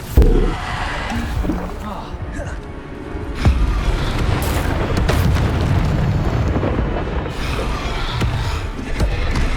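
Repeated spell explosions from the video game Hogwarts Legacy, loud booming blasts and crashes piling up over continuous battle noise, with sharp impacts at the start and midway.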